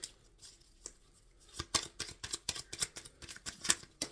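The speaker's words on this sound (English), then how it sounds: "I was guided to shuffle again" Tarot cards shuffled by hand, a quick series of crisp papery riffles and snaps, sparse at first and then dense and irregular, close and fairly quiet.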